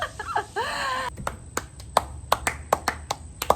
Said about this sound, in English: I'm clapping for myself.